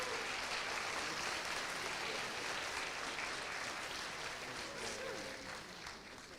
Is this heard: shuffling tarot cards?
no